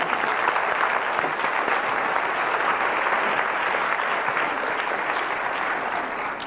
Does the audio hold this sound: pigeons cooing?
no